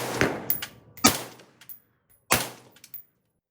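Three sharp, close suppressed reports come from a B&T APC .223 rifle fitted with a titanium B&T Print-X suppressor. The shots are spaced unevenly, and each cracks loudly then decays quickly into quiet.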